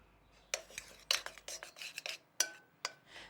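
Butter being cut into a pastry mixture seasoned with cayenne pepper for a cheese-straw style base, with scraping clinks of a utensil against a bowl in irregular strokes, close and moderately loud without speech.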